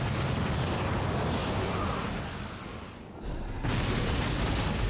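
A dragon breathes fire in the Dragon's Dogma: Dark Arisen video game, a loud, steady, broadband roaring blast that briefly dips near the end before surging again, with no voices.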